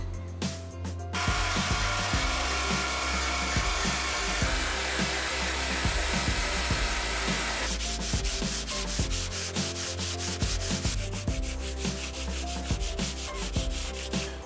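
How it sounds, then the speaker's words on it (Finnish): A power sander grinds steadily against an old fiberglass rowboat hull, a continuous whirring roar with rapid rhythmic scraping pulses and no talking. "nyt sitten seuraavaksi alkaa hiontaa"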